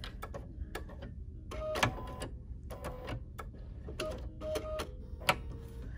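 A BERNINA sewing machine fitted with binding foot #71 stitches fabric binding in short, uneven bursts of rapid mechanical clatter, stopping and starting several times at close range.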